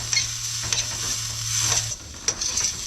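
Onion sizzles steadily in a hot pan while a utensil stirs it in a few scraping strokes, close and fairly loud, with a low hum beneath and no voices.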